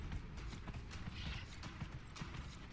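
Horse hooves clip-clopping at a steady gallop in the fantasy video game Dragon Age: Inquisition, a continuous rhythmic thudding that runs throughout at moderate, even loudness with no talk.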